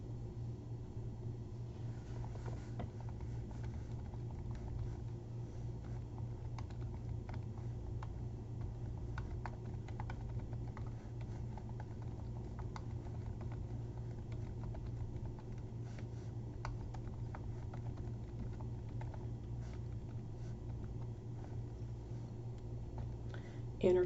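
Soft, continuous patter of keys on a computer keyboard while a document is typed out, steady fast tapping held at low level over a constant background hum.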